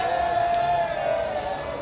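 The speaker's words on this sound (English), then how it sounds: "The crowd action is amazing." Football fans gather outside the stadium before a FIFA World Cup match in Vancouver, Switzerland vs Colombia, producing a steady crowd murmur with scattered cheering and whoops, moderately loud throughout.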